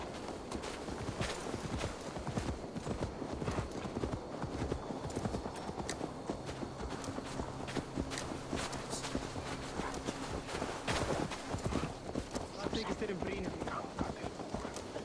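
Steady, close clip-clop of horse hooves walking in Assassin's Creed Valhalla, a continuous rhythmic patter of hoofbeats layered over game ambience and a low musical drone.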